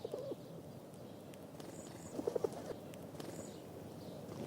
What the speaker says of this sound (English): Pigeons can be a menace,